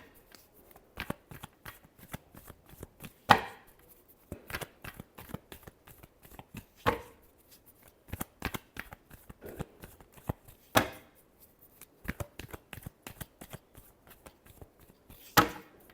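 Tarot cards shuffled by hand close up, a long run of soft riffling flicks and sharper snaps at an uneven rhythm, with no talking.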